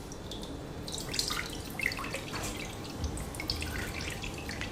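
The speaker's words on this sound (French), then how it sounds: "Et vous entendez, ça tombe direct dans le seau." Dye dripping into a bucket during tie-dyeing of a hoodie, giving scattered light drips and splashes over a steady watery hiss with no talking.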